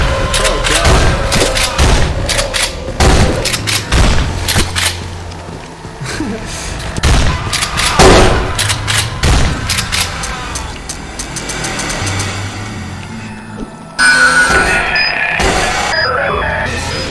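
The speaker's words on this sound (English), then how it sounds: "I'm gonna have to shoot my way out." Gunfire in the horror game To The End of Days: loud, close shots crack out in rapid irregular bursts amid booming impacts and an engine-like drone, with a brief burst of noise near the end.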